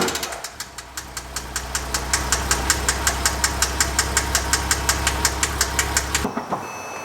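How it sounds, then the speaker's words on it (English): A Porsche Cayman S engine runs at a steady idle with a regular knocking tick repeating throughout, then cuts off near the end. "We're gonna start the car up now."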